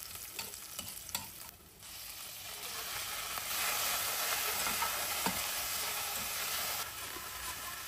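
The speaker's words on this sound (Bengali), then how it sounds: "পেঁয়াজ রসুন কুচি ভেজে চিকেন দিয়ে দিব।" Chopped onion, garlic and chicken frying in a pan, a soft steady sizzle that swells partway through, with light stirring clicks and scrapes.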